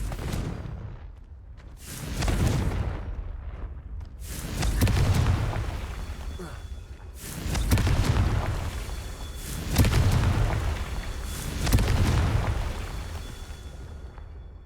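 Confringo fire-spell blasts in the Hogwarts Legacy video game boom out repeatedly, five or six heavy rumbling explosions a couple of seconds apart, each swelling and fading, loud and with no talking.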